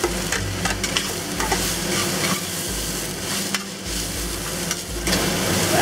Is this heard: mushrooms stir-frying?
yes